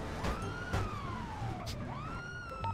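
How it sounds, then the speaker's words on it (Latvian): A police car siren wails nearby with rising and falling sweeps, loud and continuous, over background noise. "Tu izslēdz to sirēnu,"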